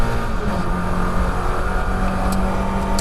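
A Mazda MX-5 race car engine at full throttle around Croft circuit, a loud, steady, close droning roar held high throughout with no speech over it.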